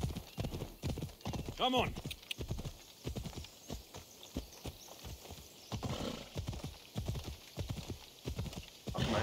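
Rhythmic clip-clop of hooves in Assassin's Creed Odyssey, with a horse whinny partway through, someone speaking briefly over the trotting.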